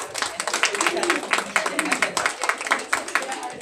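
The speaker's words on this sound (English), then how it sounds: "Give a big applause to Natalia" Audience applause at a private closed-door meet and greet, a dense, steady patter of many hands clapping together for nearly four seconds, fairly close and continuous.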